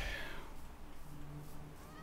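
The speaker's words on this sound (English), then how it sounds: "I hear cats." Cats meow in a Minecraft village, faint and brief near the start beneath steady game ambience and a low hum.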